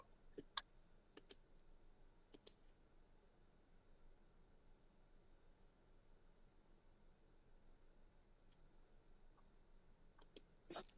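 Sharp, sparse clicks from a computer mouse, some in quick doubles, over a faint steady hiss, with long quiet gaps between bursts.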